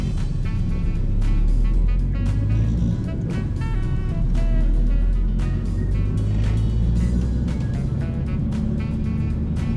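A Toyota car runs on a skid-training track at Slovakia Ring, its engine droning loud and steady with repeated sharp clicks and tyre noise throughout, a continuous close roar with no voices.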